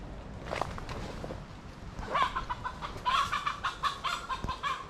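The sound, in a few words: chicken clucking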